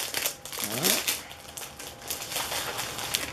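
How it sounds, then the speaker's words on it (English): Individual sheets of scrapbook paper crinkle and rustle close up in a run of dry, irregular crackles, with a brief faint tonal sound partway through. "I ordered a few individual sheets of paper, which I didn't think to take out. So now we're going to have to listen to that."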